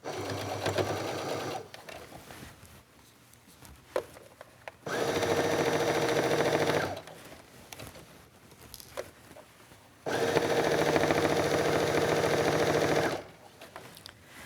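Sewing machine stitching a shirt cuff with a half-inch seam; two sustained, loud bursts of fast stitching separated by quieter handling noises and small clicks.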